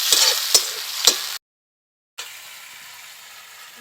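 Chopped tomato frying with onion in a pan, a steady close sizzle with a few sharp crackles, cut off by a brief silence before a softer, even hiss resumes.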